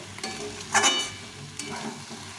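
Bottle gourd curry with fish head frying in a pan, a continuous sizzle with a couple of brief scraping stirs, close up and with no talk.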